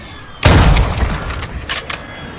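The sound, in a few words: Victus XMR (AW50) sniper rifle shots in video game Warzone 2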